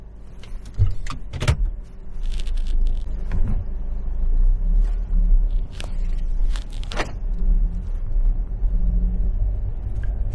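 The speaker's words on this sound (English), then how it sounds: "Let's go for a drive on the way home." Car driving along a road on the way home, a steady engine and tyre rumble running the whole time, broken by a few sharp clicks and knocks inside the cabin.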